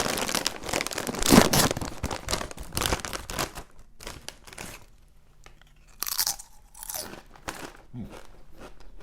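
A bag of Pocky ghost pepper chips crinkles and rustles up close, mixed with loud crunching and chewing of the spicy chips, in bursts with quieter pauses between.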